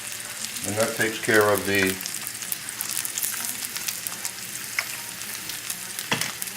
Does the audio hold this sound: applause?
no